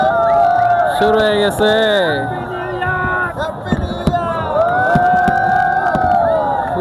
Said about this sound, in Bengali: মানুষের চিৎকারও শুরু হয়েছে।